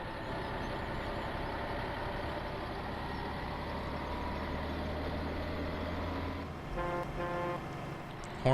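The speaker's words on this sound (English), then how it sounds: "Horn sounds pretty good too." Mack truck in Farming Simulator 17 idling with a steady low engine drone, then its horn blares in a couple of loud, close honks near the end.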